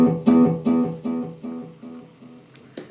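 Electric guitar note run through a Boss DD-3 delay with feedback raised, producing a string of evenly spaced echoes that step down steadily in loudness and trail away, with a new pluck entering at the end.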